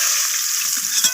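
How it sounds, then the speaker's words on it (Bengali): Pieces of rohu fish fry in hot oil, giving a loud, steady, hissing sizzle with faint stirring clatter underneath and no voices. "আমি বাকি মাছগুলোকেও এইভাবে ভেজে নেব।"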